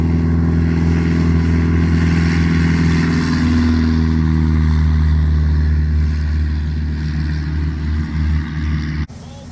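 A simulated Piper J-3 Cub engine runs at wide open throttle in Microsoft Flight Simulator, a loud steady low drone with layered harmonic tones that drifts slightly in pitch before cutting off abruptly near the end.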